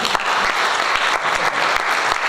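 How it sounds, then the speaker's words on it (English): A room full of people applauds school board candidates at an evening meet-the-candidates event, a dense, steady patter of many hands clapping together at close range for a couple of seconds, with no one speaking. "give a round of applause to our candidates tonight again"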